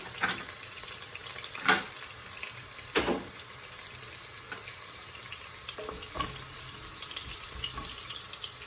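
Ginger sautés in a pan for Kerala-style chilli chicken, a soft steady sizzle broken by a few louder scraping and clattering bursts as it is stirred.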